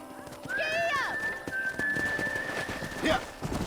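Horse whinnies loudly in Red Dead Redemption, a rising-falling neigh over steady galloping hoofbeats, with a rider's shout and other game sounds mixed in.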